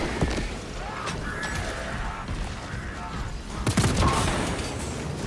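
Weapon volleys in a Warhammer 40,000 game, with sharp bursts of gunfire and clanking mechanisms over a busy, droning battle bed, growing louder and denser near the end; a voice speaks in between.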